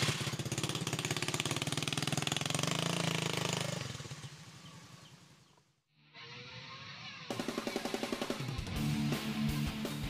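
Small motorcycle engine running close by, a steady rattling drone that fades out briefly midway, then restarts with sharp, choppy revving.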